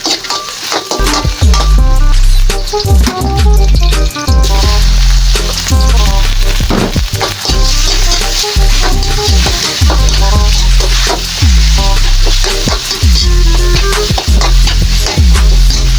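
Garlic sautés in a hot pan with loud, constant sizzling and frying crackle, while utensils stir and clatter against the pan at irregular intervals throughout.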